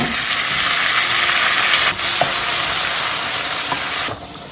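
Chopped onions and tomatoes sizzle loudly in a hot pan, a steady close frying hiss with brief stirring clinks and a short drop in intensity near the end.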